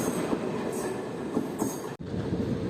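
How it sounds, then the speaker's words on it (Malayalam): The Kannur Executive Express rolls out of Ernakulam Town railway station with a steady rumble of wheels on track, a faint squeal or two, and a brief dropout near the end. "കണ്ണൂർ എക്സിക്യൂട്ടീവ് എക്സ്പ്രസ് അങ്ങനെ എറണാകുളം ടൗൺ റെയിൽവേ സ്റ്റേഷനിൽ നിന്ന് പുറപ്പെട്ടു"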